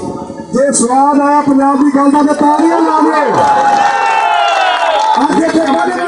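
Crowd noise from an audience at a Punjabi-language gathering, the Maan Boli Jalsa in Lahore: loud, sustained cheering and clapping with voices over it, swelling and dipping across the whole stretch.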